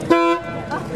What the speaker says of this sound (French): Regardez le klaxon.